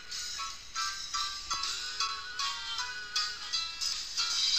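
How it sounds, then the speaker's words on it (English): Background music track added in the YouTube editor: a soft, bright melodic pattern with repeating pulses, steady and fairly quiet, with no voices over it. "Now, you can hear the music in the background"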